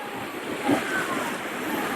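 A river flows past a campsite with a steady, close rushing wash of water, unbroken for the full two seconds.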